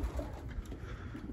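Racing pigeons coo faintly at their loft, a soft, low murmur of a few brief coos, quiet and somewhat distant.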